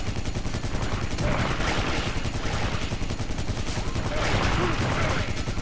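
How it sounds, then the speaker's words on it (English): Rapid machine-gun fire from a video game played on a Powkiddy X18 handheld, a dense, continuous rattle of shots that stays loud and steady throughout with no pauses. "Back to the machine gun."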